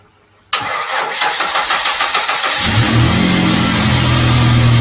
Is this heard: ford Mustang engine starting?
yes